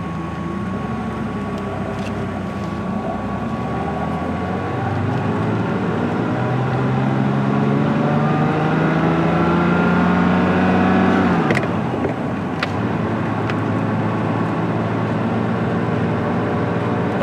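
A 1983 Ferrari 512 Berlinetta Boxer BBi engine drones steadily at low speed in first gear, its pitch slowly climbing as it pulls away, with a couple of sharp clicks near the end.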